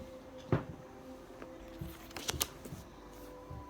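Tarot cards shuffle softly, with scattered riffling and tapping bursts and a brief louder snap of cards near the middle, faint and close in an otherwise quiet room.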